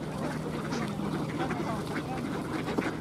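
Ducks wintering on water at Tsarskoye Selo quack repeatedly in the near distance, amid a busy outdoor murmur with some talk.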